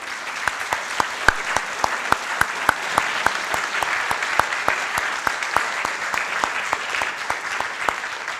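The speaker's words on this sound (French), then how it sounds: "je propose qu'on vous applaudisse" Sustained audience applause following a talk on Venezuela, a dense wash of clapping with a few sharp, distinct claps standing out in a steady rhythm throughout.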